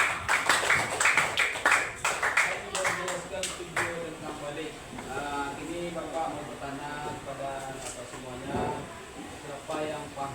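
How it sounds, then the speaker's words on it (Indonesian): Audience clapping at a talk, a burst of quick hand claps at the start that soon fades as a voice takes over and keeps speaking over the tail end. "kita beri terus tepuk tangan semua dulu."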